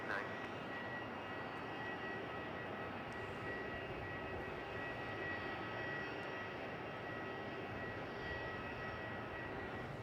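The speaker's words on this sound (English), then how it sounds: "This is one of the A330 900 Neos. This is one of the new aircraft for Malaysian." Malaysia Airlines Airbus A330-900neo at Melbourne Airport, its engines giving a steady, continuous roar that holds at an even loudness throughout with no break.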